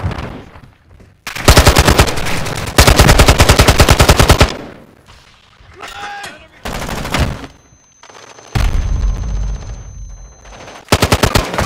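Automatic gunfire in the video game Call of Duty Modern Warfare 2, with loud rapid bursts of rattling shots fired in several separate volleys and short pauses between them.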